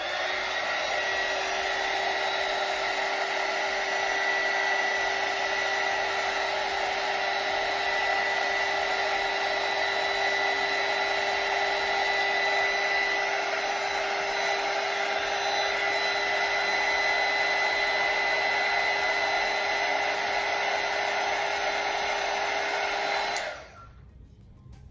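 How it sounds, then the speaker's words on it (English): A heat gun blows steadily on beeswax candles, a loud continuous whining airflow with a fixed tonal hum that holds unchanged for over twenty seconds, then cuts off abruptly near the end. "And I'm going to use my heat gun."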